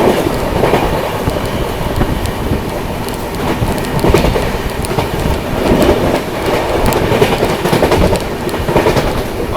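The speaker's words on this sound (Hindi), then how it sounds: "रेलवे स्टेशन को हाई स्पीड में स्किप कर रही है भाई अपनी ट्रेन" The Howrah Rajdhani Express runs at high speed past a railway station, with a loud, continuous roar of wheels on rails and a steady clickety-clack throughout. No one speaks.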